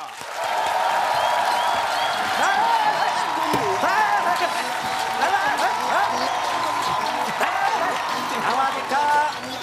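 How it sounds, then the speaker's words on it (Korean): A studio audience claps and cheers during a comedy sketch staged as a crocodile show, producing a sustained, fairly loud wash of applause with voices and shouts mixed in. "박수 한번 주세요"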